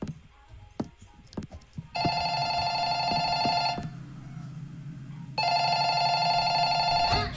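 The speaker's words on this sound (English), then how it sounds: "Should I answer the phone?" A telephone rings in a video game, two long electronic ringing bursts with a pause between them, loud and close, following a few scattered knocks and clicks at the start.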